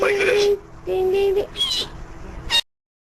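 A voice imitates a pig's squeal in a few high, nasal bursts, with short pauses between them, ending on a sharp shriek.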